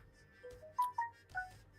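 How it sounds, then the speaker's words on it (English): A mobile phone gives a short tonal ringtone, a few bright beeping notes in quick succession, fairly close and clear against a quiet room. "there's my god awful phone."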